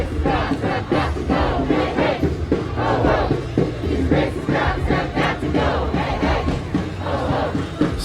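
A large crowd of protest marchers cheers and shouts continuously at a march, a dense, loud and steady roar of many voices with no single voice standing out.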